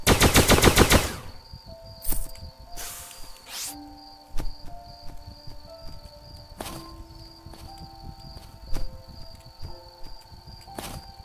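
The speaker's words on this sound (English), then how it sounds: "Thanks for the warning shot." Gunfire in the video game Starbound: a dense rapid burst of shots at the start, then scattered sharp single reports and clicks over a steady electronic hum, with no speech.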